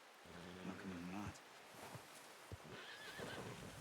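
A horse neighs in Red Dead Redemption 2, a long wavering whinny near the start, then softer snorts and a second, fainter neigh later, with hoof clip-clops and light rustling underneath.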